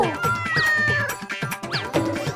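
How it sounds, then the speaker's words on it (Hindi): A cartoon cat meows several times in quick succession, close and clear, with a tonal, whiny call that rises and falls over a busy animated comedy soundtrack. "कहाँ से आ रही थी बिल्ली की आवाज?"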